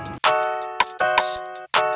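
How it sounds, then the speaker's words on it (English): Trap beat percussion loop of short bright tonal clicks and snappy hits falling on offbeats, with sustained ringing pitched tones between them, fairly clean and close, no voices. "I also have some percussion hitting the offbeats"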